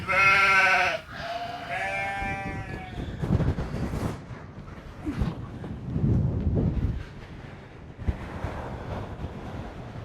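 Sheep bleat loudly nearby a few times at the start, then gusty wind buffets the microphone with a distant surf-like rush.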